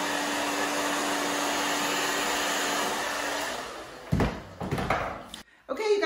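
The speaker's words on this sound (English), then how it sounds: "So I'm just going to finish blow drying the top." A hair dryer blows steadily and loudly while hair is dried during a short bob haircut, running continuously for several seconds before cutting out amid handling clatter and brief knocks.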